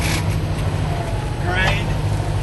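Gears grind on a 1973 Kenworth dump truck as the driver shifts, a rough mechanical scrape riding over the steady engine drone, close and loud inside the cab.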